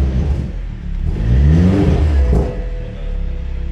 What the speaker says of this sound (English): Alright, let's get a couple revs.